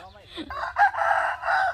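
A rooster crows in a forest, a single hoarse cock-a-doodle-doo rising then holding in two drawn-out phrases, fairly close and loud over faint low background rumble.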